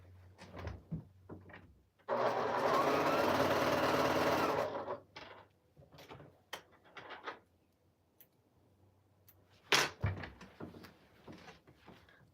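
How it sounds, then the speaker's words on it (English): A sewing machine runs a quarter-inch seam on a scrappy Drunkard's Path quilt block in one continuous burst of about three seconds, close and clear, with quiet handling clicks and fabric rustles before and after. "So I just sewed that 1/4 inch."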